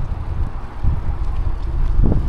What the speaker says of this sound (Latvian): Brīnums, ka vējš pūš no sāniem